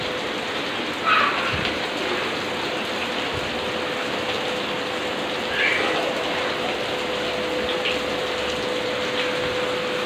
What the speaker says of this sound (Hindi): तो अभी हो रही है बारिश